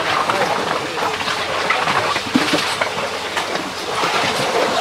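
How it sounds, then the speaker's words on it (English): A diesel motor drives a gold ore arrastra through a transmission and gearbox, making a steady loud rumble with rattling, clanking machinery noise that never lets up. "A diesel motor that's down there."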